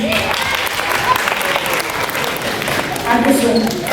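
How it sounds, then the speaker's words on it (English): Loud, continuous applause from a live audience during a stage guessing game in a Las Vegas show, the clapping steady and dense for the whole stretch, with faint crowd voices underneath. "Clap if you think it's in this one."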